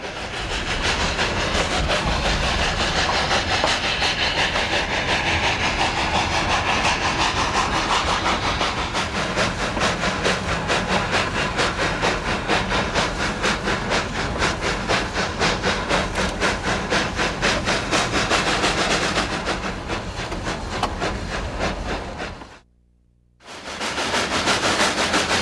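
A steam train rumbles and rattles continuously with a rhythmic chugging texture, loud and close, briefly dropping out near the end before resuming.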